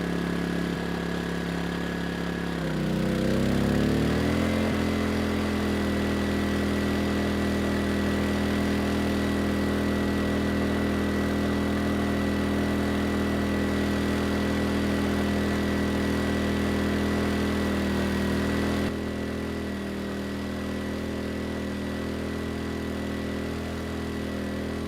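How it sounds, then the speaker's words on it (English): An ERAYAK 4500W dual-fuel inverter generator runs steadily under a 3000-watt load, its engine humming loud and constant with a brief rise in pitch as the load comes on, then settling and dropping slightly near the end, with no talking. "The engine not having any issue at all pulling that load."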